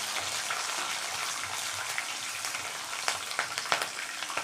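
Three slit green chillies fry in hot oil with chana dal, producing a steady, close, bright sizzle with scattered crackles and pops throughout, no talking.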